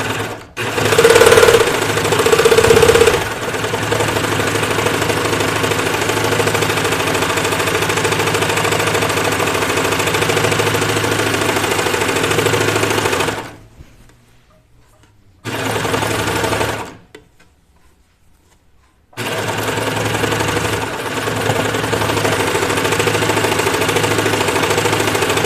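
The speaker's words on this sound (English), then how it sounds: "So I just added the serging edge there." A serger sewing machine stitches a serged edge on fabric, whirring steadily and close for long stretches, with brief pauses and restarts partway through and no talk.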